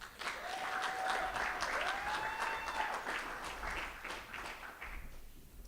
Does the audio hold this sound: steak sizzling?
no